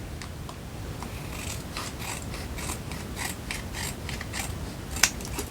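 Scissors trimming a paper folio tag, giving a close run of quick crisp snips in an uneven rhythm over a quiet background, with one sharper click near the end.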